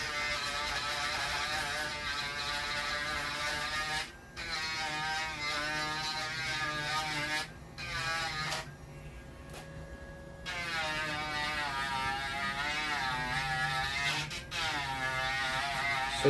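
A Dremel rotary tool whines steadily at close range with a strong harmonic buzz, cutting out briefly a few times before spinning back up, with no talking over it.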